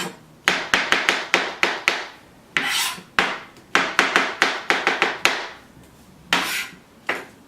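A knife chops on a wooden board in quick bursts of sharp, close knocks, broken by a few longer scraping strokes. No one speaks.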